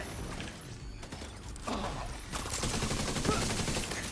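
Bursts of video game gunfire rattle in quick succession while headshots are being landed, dense and fairly loud, with brief gaps between volleys and almost no talking.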